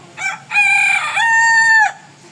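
A very large 7 kg rooster crows nearby, one loud drawn-out cock-a-doodle-doo after a brief opening note, clear and alone.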